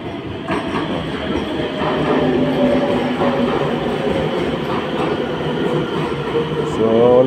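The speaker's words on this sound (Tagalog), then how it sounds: "dadating na yung train" Rotterdam metro train pulling into Beurs station, a steady close rolling rumble and rattle that swells and rises into a brief wheel squeal near the end, with some background talk.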